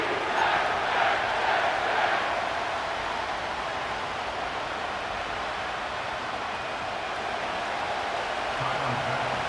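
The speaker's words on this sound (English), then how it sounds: "The crowd is alive" Stadium crowd noise from an EA Sports NFL video game at MetLife Stadium, East Rutherford, New Jersey, during the playoffs: a steady, dense roar of cheering fans, loud and continuous throughout with no pauses.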